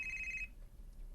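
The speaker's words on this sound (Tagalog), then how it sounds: "Naay nanawag, basin si Papa Francine." A cellphone rings from inside a pocket, a faint steady electronic tone lasting about half a second over a low background rumble, then breaks off.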